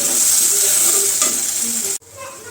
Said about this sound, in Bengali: এখানে পেঁয়াজটা তো মোটামুটি ভাজা হয়ে আসছে